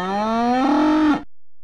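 A cow moos loudly and alone in a video game, a single drawn-out bellow lasting about a second before cutting off to silence, as exploding cows are catapulted.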